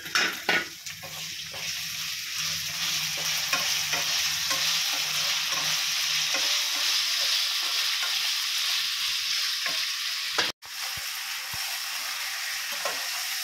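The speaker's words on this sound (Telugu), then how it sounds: "మంచి గోల్డెన్ బ్రౌన్ కలర్ వచ్చే వరకు ఫ్రై చేసుకోవాలి. సౌండ్ అయితే చాలా బాగా వస్తుంది, ఫ్రై అవుతుంది ఆల్మోస్ట్." Salted cauliflower frying until golden brown for gobi fried rice, a constant bubbling sizzle with repeated stirring taps and a brief sudden cutout near the end.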